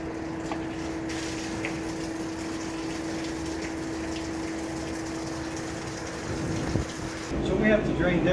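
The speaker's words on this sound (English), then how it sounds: "So we have to drain this so the pipes doesn't freeze and break during the winter months." Water drains steadily from a cooling tower pipe line being emptied for winter, a constant rushing flow with a steady pump-like hum that swells louder near the end.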